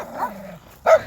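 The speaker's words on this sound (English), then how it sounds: "Passing some yiping dogs." Small dogs yip and bark close by outdoors, one short high-pitched yap ringing out sharply after a softer whining bark, with no talk over them.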